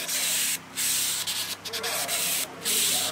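Close, brisk strokes of 400-grit sandpaper along the trailing edge of a Levitaz foil, a dry hissing rasp in quick back-and-forth bursts with short pauses between strokes, heard alone.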